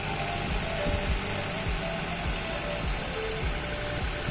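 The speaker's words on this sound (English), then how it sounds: "Check the fuel injector operating noise." An idling Suzuki Baleno engine heard up close through a sound scope, with a low steady hum and a quick regular ticking of the fuel injectors running underneath.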